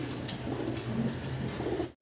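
Coca pigeons coo in low, rolling murmurs, close and continuous, with a faint rustle in the background.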